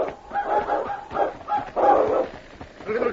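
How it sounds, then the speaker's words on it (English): A small dog barks and yips in short, repeated bursts near a burning cabin as it tries to get inside, the excited calls coming in quick clusters with brief gaps. "little dog's trying to get inside."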